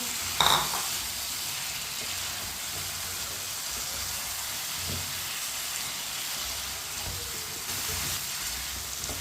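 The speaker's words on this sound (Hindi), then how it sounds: "अब इसे 2 मिनट के लिए पका लेंगे ऐसे ही चम्मच चलाते हुए।" Half a kilo of cut potatoes fry in a pan with a steady close sizzle, a spoon stirring through them and scraping now and then.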